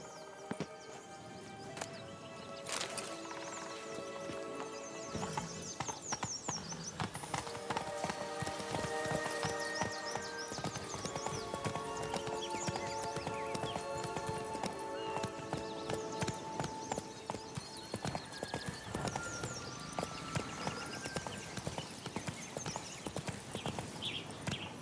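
A horse's hooves clip-clop steadily at a quick gallop in The Witcher 3, a continuous rhythmic pounding beneath a busy music score, with a short exclamation urging the horse on.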